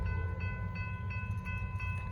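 Norfolk Southern freight train rolling past on the Charlotte District, a steady loud rumble with droning tonal hums and faint periodic clanks, continuous throughout.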